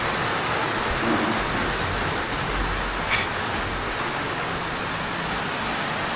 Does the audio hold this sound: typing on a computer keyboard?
no